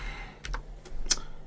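Several keystrokes on a computer keyboard while entering numbers in the strategy game Vikings: War of Clans, close and distinct taps over a faint background hum.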